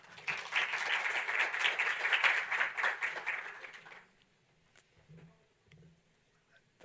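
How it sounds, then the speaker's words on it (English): Warm round of applause from a conference auditorium audience, a few seconds of dense clapping that fades out, followed by near silence with faint handling noises. "let's give Michele a warm round of applause"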